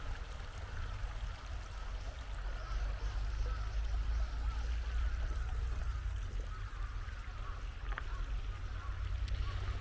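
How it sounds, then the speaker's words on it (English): Gently flowing stream in a park plum grove in Osaka, a soft continuous babble with low rumble, fairly quiet and even, with a faint click or two near the end. "just the sound of the flowing water was really calm"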